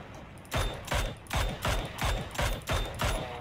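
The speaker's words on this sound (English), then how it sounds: "I just shot a guy out with a glider with a mini." Minigun fire in a glider-versus-glider video game battle, seven evenly spaced booming shots in a steady rhythm, loud and alone with no talk.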